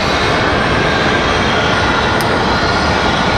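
United Express Embraer E-175 regional jet roaring loudly and steadily at close range at Raleigh-Durham airport, a dense broadband engine rush with no voices.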